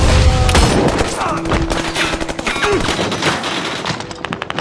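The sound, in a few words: gunfire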